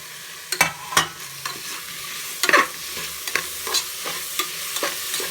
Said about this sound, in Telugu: ఇందులోనే సన్నగా కట్ చేసుకున్న పుదీనా, సన్నగా కట్ చేసుకున్న 1 టమాటా వేసుకుంటున్నాను.